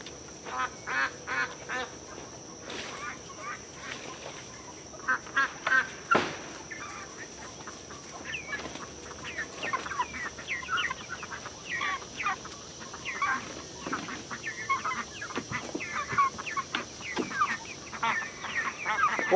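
Chickens in a chicken tractor cluck and squawk in a loose, irregular chorus of close, clear calls, rising and falling in bursts over a quiet background.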